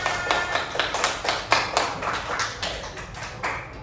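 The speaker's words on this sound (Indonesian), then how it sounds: "Oke, tepuk tangan." A classroom of students claps in a quick rhythmic burst of sharp, close hand claps lasting several seconds, with no talking over it.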